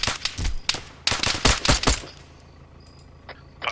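Sniper fire in the military video game ArmA: a quick run of sharp, loud gunshots with distinct cracks, then a quiet pause and a couple of fainter distant shots.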